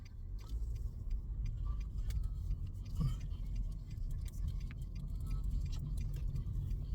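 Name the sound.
car driving on road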